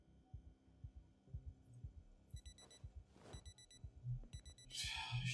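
An alarm clock timer in Project Zomboid goes off, with high repeated electronic beeps in short groups over a soft rhythmic background of in-game thumps, ending in a brighter burst of noise.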